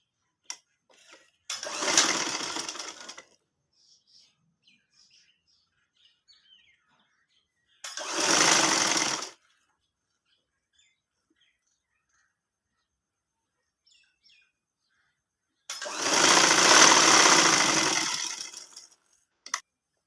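An electric sewing machine stitches a ladies' side pocket in three separate runs, two short bursts and a longer one, each a close whirring buzz, with near silence and a few faint handling clicks between them.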